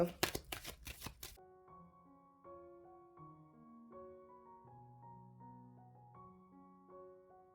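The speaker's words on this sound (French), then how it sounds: "On va prendre 13 cartes." Tarot cards are shuffled in quick, crisp riffling bursts for about a second, followed by soft background music of sustained tones.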